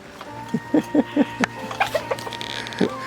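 Several short clucks from a village chicken come in a quick irregular run, fairly close, over a steady low hum, with a couple of softer clucks toward the end.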